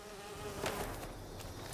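A bee buzzes in a video game with a continuous, fairly loud insect drone that wavers slightly in pitch, heard alone without speech.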